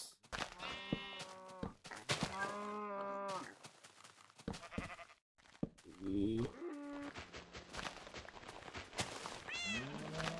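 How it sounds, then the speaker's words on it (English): Sheep in the Minecraft video game bleat repeatedly in short, wavering calls, some overlapping, close and fairly loud, with a brief pause midway and voices talking intermittently between the bleats. "bring the sheeps over here"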